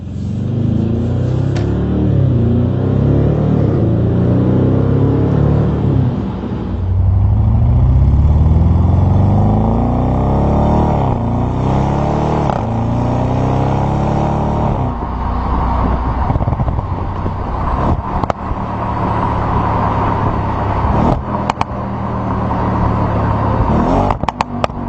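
An Audi RS 7 engine revs and burbles through its exhaust, rising and falling in repeated pulls with rev-matched downshifts, a loud close deep growl with crackling burble between shifts, no speech.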